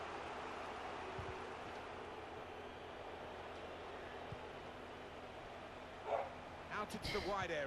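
A dog barks a few times at close range near the end, after a long stretch of steady low background noise, with a second dog across the road having set it off.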